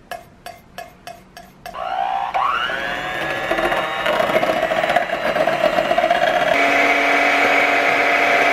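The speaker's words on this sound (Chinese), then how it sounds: "我用呢个打蛋器都打咗几分钟咯" An electric whisk whipping dalgona coffee, first a few short pulsed bursts, then a loud continuous whirring drone whose pitch rises as the motor speeds up, close by with no talking.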